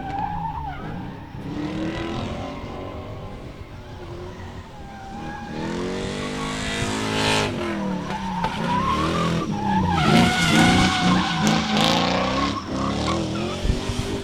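A drift car at Meremere Drift Park digs a trench off the edge of the track during qualifying, with loud tire squeal and skidding that rises and wavers over a revving engine, growing more intense midway.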